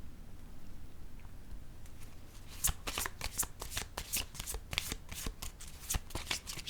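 Playing cards handled and laid down on a table, starting quietly and then becoming a dense run of close, crisp shuffling flicks and soft slaps that lasts to the end, with no talk over it.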